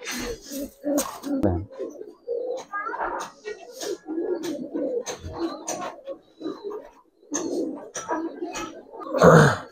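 Pigeons coo in low, scattered bursts amid clattering and rustling, with brief quiet gaps between.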